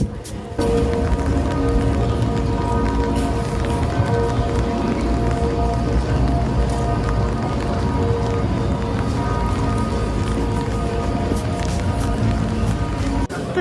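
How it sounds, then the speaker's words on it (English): Steady heavy rain at six o'clock on an evening in Dresden, Germany, a dense continuous wash of drops hissing on street surfaces, loud and unbroken throughout with no speech over it. "so it's very rainy."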